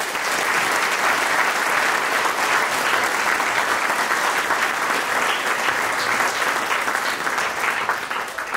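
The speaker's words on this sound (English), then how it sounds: "So give them a round of applause" An audience at a Disney Legend talk with Tony Baxter on the creation of Big Thunder Mountain breaks into steady, sustained applause, loud and full throughout with no pauses.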